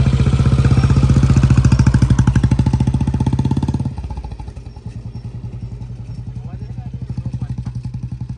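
A Royal Enfield Bullet motorcycle engine thumps nearby in a steady low beat, loud at first then easing to a slower idle, with a few voices faintly underneath.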